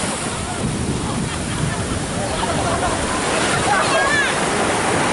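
Ocean surf rolling onto a beach at Kenting on a bright morning, a steady broadband wash of breaking waves with some wind, faint voices nearby.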